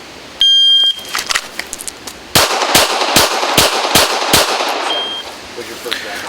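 Six pistol shots fired from concealment at a reduced upper A-zone target, sharp loud cracks in quick succession after an electronic shot-timer beep, spaced roughly half a second apart.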